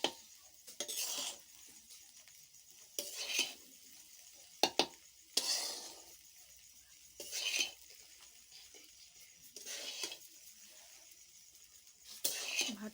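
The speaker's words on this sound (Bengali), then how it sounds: "ভাতটা অনেকটা হয়ে গেছে, নাড়তে খুব অসুবিধাই হচ্ছে একটু।" Cooked rice being stirred in a pot, soft intermittent scraping bursts spaced a few seconds apart over quiet background, with faint clinks.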